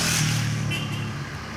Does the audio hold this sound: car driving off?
yes